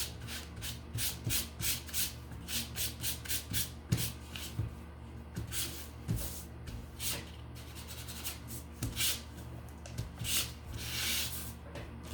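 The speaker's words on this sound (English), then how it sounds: "very gently support all the pieces as you sand them" Small wooden sign pieces sanded by hand, a steady series of soft, close scratchy rubbing strokes in an uneven rhythm, with a low hum running underneath and no talking.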